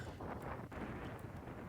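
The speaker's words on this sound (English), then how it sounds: "It's just crazy windy." Strong wind sweeps across a beach after a storm, a faint, continuous rushing buffet against the microphone with no one talking.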